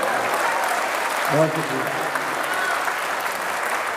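At an international Urdu poetry mushaira in Muscat, Oman, an audience keeps up a steady wash of clapping while someone briefly speaks over it.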